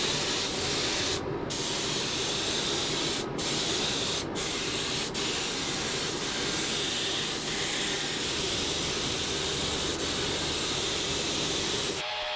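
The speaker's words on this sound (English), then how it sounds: "Now I can begin mixing up the finish which will get sprayed on the body." Crystalac Bright Tone finish sprayed onto a guitar body, a continuous airy hiss from the spray gun with a few short pauses, close and steady, with no talking.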